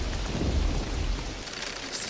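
Steady heavy rain hisses through a thunderstorm scene in the 1993 film Jurassic Park, with a low rolling rumble of thunder swelling early on, then easing to the continuous rain wash.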